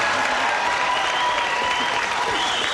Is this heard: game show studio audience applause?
yes